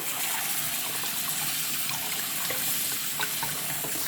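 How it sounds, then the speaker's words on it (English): Cold water runs steadily from a kitchen tap during tapioca pearl cooking, a soft continuous splashing hiss with faint trickles and no voices. "I run this one with cold water"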